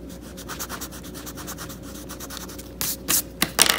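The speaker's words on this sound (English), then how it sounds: "I'm trying to erase it." Eraser rubbing across paper to remove a pencil logo drawing, a fast, steady scrubbing rhythm close up, ending in a few louder, separate strokes.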